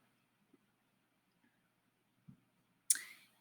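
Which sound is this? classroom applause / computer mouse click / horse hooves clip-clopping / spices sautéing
computer mouse click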